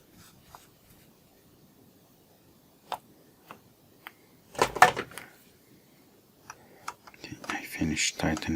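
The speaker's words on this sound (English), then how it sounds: "Finish tightening it with the spanner." A spanner tightens the front element of a Pentacon 50mm f/1.8 camera lens, making sparse, quiet metallic ticks and small scrapes. A louder cluster of clicks comes midway and a busier burst of handling noise comes at the end.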